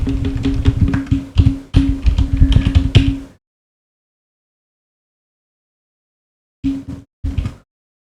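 Typing on a computer keyboard while entering text into Google Sheets: a close, busy burst of key clicks for about three seconds, then silence, then a few short final taps.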